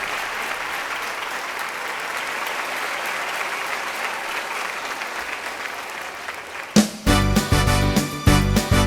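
An audience at a show applauds in a steady, moderately loud wash of clapping for several seconds before a loud burst of band music abruptly takes over.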